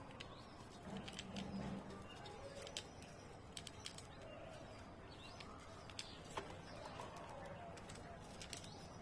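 Budgies nibbling coriander leaves, with quiet scattered clicks and pecks, soft chirps and a low coo over faint background hiss, all fairly distant and low in level.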